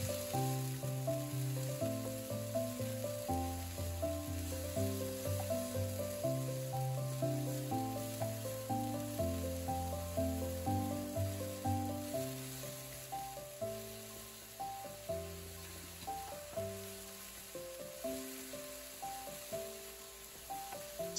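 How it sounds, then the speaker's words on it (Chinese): Garlic, chili and scallion stir-frying in a wok give a steady, soft sizzle that runs continuously beneath background music. "炒出香气。"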